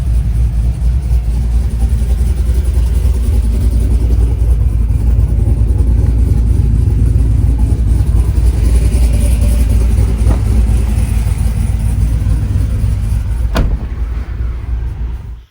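A 2024 GMC 1500 4x4 pickup with a cammed 6.6L engine swap drives steadily, its deep, loud exhaust rumble continuous throughout with occasional throttle changes and no talking.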